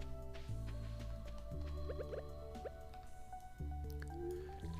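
Crops being watered in Stardew Valley, with several squishy drip and splash effects repeating over a steady game music bed, close and moderate in level, no speech.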